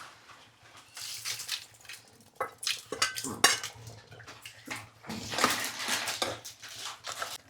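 Tempering and dry coconut poured into puliyogare gojju and stirred in a metal vessel, with clattering spoon scrapes, knocks and a soft rustling pour at close range, no speech.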